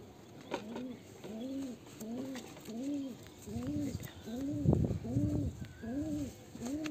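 Pigeons coo in a steady series of about nine soft, rounded calls, one after another at an even pace, close by with a faint background hiss and no talking.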